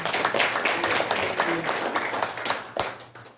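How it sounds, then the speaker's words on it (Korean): Audience applause at a memorial commemoration ceremony, honouring the Buk-gu district head for helping erect a memorial monument in Gwangju, a short dense burst of clapping with some voices mixed in. "문인청장께 다시 한번 박수 드리겠습니다"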